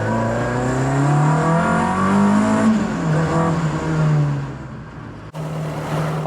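A Ford Escort Mk1 engine runs loud and close, revving up and down in rising and falling sweeps before it cuts out abruptly, then catches again briefly.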